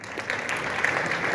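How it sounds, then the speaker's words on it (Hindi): A short, loud burst of applause from a school audience during a pre-exam talk, dense crowd clapping filling the room without speech. "तो इनके लिए भी तालियां।"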